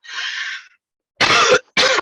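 A close cough, a brief pause, then two more sharp coughs in quick succession, loud and isolated against silence.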